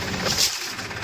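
A farm tractor's engine runs steadily nearby, a continuous mid-pitched rumble with no talk over it.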